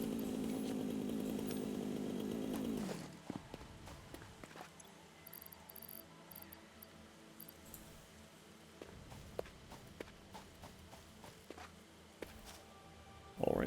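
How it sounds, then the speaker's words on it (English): A chainsaw in the factory-building game Satisfactory roars steadily for about three seconds, then cuts off, leaving scattered footsteps and faint rustling of cleared vegetation in the quieter stretch that follows. "I start getting really enthusiastic with the chainsaw."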